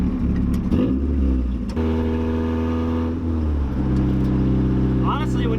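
A 1.8-litre Mazda Miata, heavily lowered, revs up hard under acceleration, a loud steady engine drone that shifts pitch through the gears, with a voice speaking over it at the start.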